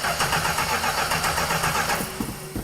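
A Plymouth Road Runner engine cranks and fires, running with a loud, steady rumble before settling to a rougher idle.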